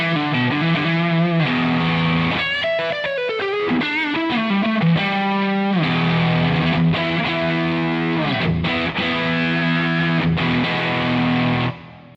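Electric guitar played through a Plumes overdrive pedal stacked into a boost pedal, gritty driven chords and single-note runs, loud and close with no talking.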